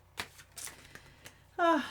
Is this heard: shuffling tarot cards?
yes